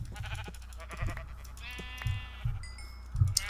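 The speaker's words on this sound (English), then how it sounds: "The black sheep. This white sheep I'm gonna take." Minecraft sheep bleating in a video game, several short wavering bleats repeating across a few seconds at moderate volume over a steady low game hum.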